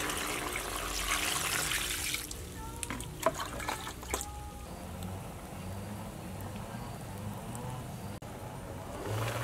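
Water splashes and pours into a pot of bamboo shoot for a couple of seconds, followed by soft bubbling and clinking in a quiet kitchen.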